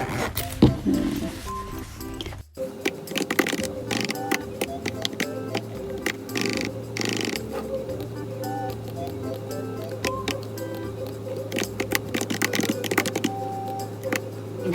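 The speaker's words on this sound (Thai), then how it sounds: "ตัวนี้ก็คือจะเป็นคีย์บอร์ดนะคะ ก็จะเป็น แบบกลมๆแบบนี้นะคะ แล้วก็ชอบฟังเสียงอะ" Rapid, close typing on a keyboard with round keys, light clicky keystrokes in an uneven rhythm, with a faint background hum.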